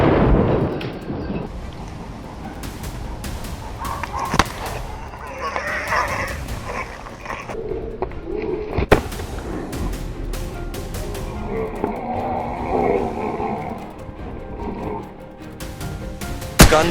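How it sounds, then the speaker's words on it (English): Gunfire during a wild boar hunt on a farm: a few sharp, loud reports stand out as scattered single shots over a busy, continuous background. "Gunshots rang out crisply."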